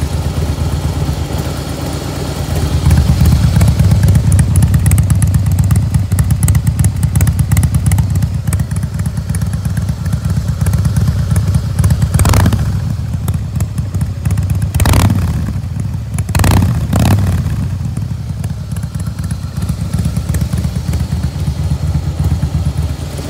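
Harley-Davidson Softail Slim S motorcycle with a Jekill & Hyde exhaust set fully open, a loud, steady low rumble close by, briefly rising in revving bursts midway before settling back to a throaty idle, with no talking.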